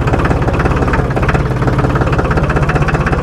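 A tractor engine runs loudly and steadily while the tractor descends a steep, dangerous slope, its heavy, rhythmic throb and vibration filling the cab.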